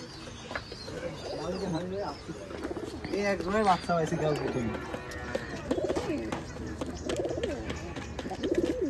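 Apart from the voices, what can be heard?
pigeons cooing in a pigeon loft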